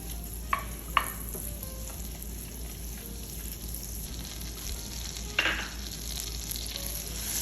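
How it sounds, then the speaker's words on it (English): Butter melts in a tablespoon of olive oil in a pan, giving a quiet, steady sizzle with a few soft clicks and scrapes of stirring. No one speaks. "I added some oil, and I'm also gonna melt some butter here as well."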